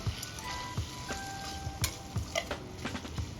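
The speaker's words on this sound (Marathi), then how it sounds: "आता तुम्ही बघू शकता तिथे हळूहळू आपलं सर्व साहित्य परतायला सुरुवात झालेली आहे" Ingredients for shev bhaji sizzling and frying in a pan, with steady close crackle and a few scraping stirs throughout, no talking.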